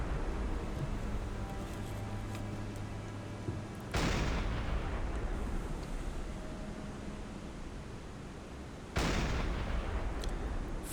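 Deck gun of a submarine firing in the naval game Silent Hunter 5 on wavy seas: two loud, broad booming shots about five seconds apart, each with a sharp onset and long rumbling tail over a steady wash of wind and sea noise.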